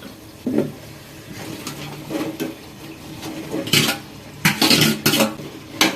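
Chicken is stirred into a pot of onions and garam masala paste, with intermittent scraping and clattering of a spoon against the pot in short bursts, louder toward the end, with no talking.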